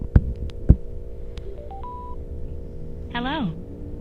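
Power-on chime of a Sena 50S motorcycle Bluetooth communicator heard inside a helmet: a couple of soft clicks, then a short rising series of electronic tones and a warbling sweep, over a low steady hum.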